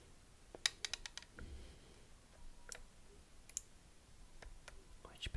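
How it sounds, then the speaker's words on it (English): Pressure dial on an optical inspection device being turned, giving a series of small, crisp clicks in quick clusters, close and quiet against a hushed background. "Which produces some lovely clicking sounds."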